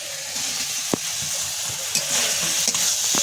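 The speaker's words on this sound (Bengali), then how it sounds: "এবার কিন্তু কাঁকড়াটা দিয়ে আরেকটু কষিয়ে নেবো" Crab being stir-fried with ground spice paste in a pan gives a constant crackling sizzle, punctuated by several sharp knocks and scrapes of a stirring spoon.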